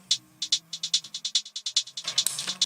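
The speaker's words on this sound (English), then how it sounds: "using delay and automatic panning for panning left and right." A lo-fi remix part sends a string of crisp, bright clicky hits through delay with automatic left-right panning, pulsing in a fast, even rhythm over a faint low hum. Echoing repeats trail each hit.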